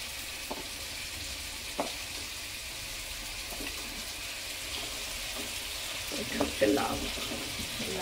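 Chopped vegetables hitting a hot pan for sambar dal, a soft steady sizzle with occasional stirring knocks and clatters, louder scraping near the end, under quiet background voices.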